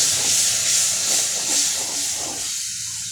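Masala sautéing in a pan hisses with a broad, steady sizzle that swells and eases in slow waves, nearby and fairly loud, with faint stirring.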